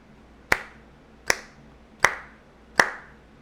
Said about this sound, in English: I'm going to clap on each beat.